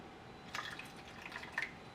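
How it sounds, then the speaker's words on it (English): Hot water is poured into a container for a heat energy experiment, making faint, quiet splashing and trickling with a couple of brighter splash bursts. "And then I'm going to add my hot water."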